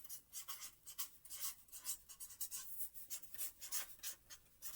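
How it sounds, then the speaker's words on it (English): A marker or pen writing a label on a cardboard packing box while packing bathroom toiletries, quick rhythmic scratchy strokes, close and quiet, with no talking. "Okay, now I have to write on it. I have to write bathroom."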